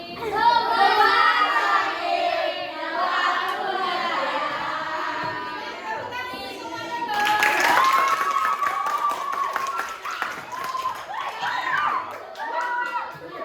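A classroom of students applauds group 5, a lively mix of clapping, cheering and children's shouting over crowd chatter, building in a second wave partway through.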